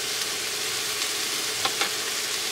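Food sizzling on a teppanyaki griddle during a winter camper-van meal with scallops and meat on bean sprouts: a steady, dense frying hiss throughout, with a couple of brief louder crackles near the end.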